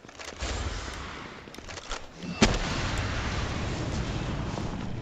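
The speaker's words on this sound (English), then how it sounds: "I can't believe that fireball didn't hit." Fiery blasts and bursts of gunfire from a Palworld battle with the legendary Jetragon, a dense, roaring rumble with a sharp crack midway and continuous explosive noise, loud and close, with no voices.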